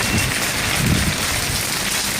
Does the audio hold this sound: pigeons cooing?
no